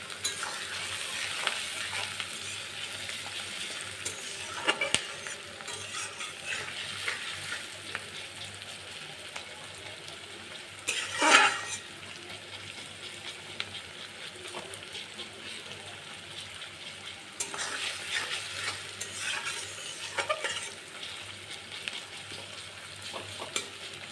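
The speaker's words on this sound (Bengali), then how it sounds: "এখন পেঁয়াজটাকে ভালো করে নরম করে ভেজে নেব।" Onions fry in a pan with a soft, continuous sizzle, broken by occasional clinks and scrapes of stirring and one louder scrape near the middle. Low speech can be heard in the background.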